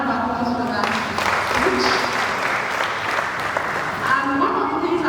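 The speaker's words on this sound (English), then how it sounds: "A round of applause for that." A lecture hall audience applauds at a valedictory lecture, dense continuous clapping, loud and close, with some voices mixed in beneath.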